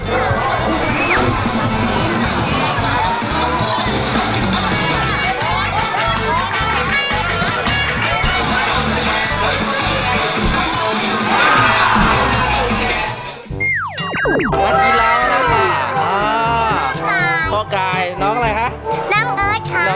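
A children's cheering squad at a school colour sports day shouts and cheers loudly and constantly along with music and a crowd, while an adult talks over the noise.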